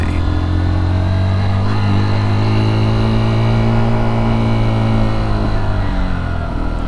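A 2023 Honda XR150L motorcycle engine hums steadily close up while riding, a loud, continuous drone whose pitch rises and falls slightly as the throttle shifts over small hills, with wind rush throughout.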